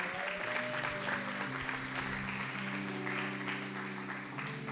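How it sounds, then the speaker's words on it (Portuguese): A church audience at a women's service applauds a female pastor, sustained clapping filling the hall at even strength with some crowd murmur and faint background music beneath. "Vamos aplaudir nossa pastora."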